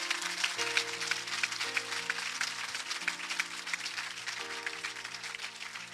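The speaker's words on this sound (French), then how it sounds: "Give a hand clap unto the Lord." A church congregation clapping hands together in a fast, steady rhythm during worship, with sustained organ or keyboard chords underneath and no speech.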